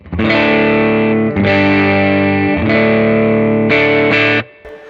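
A heavily distorted electric guitar plugged straight into a high-gain amp rings out sustained chords, several strummed in turn with thick, saturated tone, ending with a brief fade.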